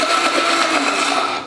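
A blender whirs loudly and steadily through a brief pulse of basil pesto, a close, continuous motor roar with no talking.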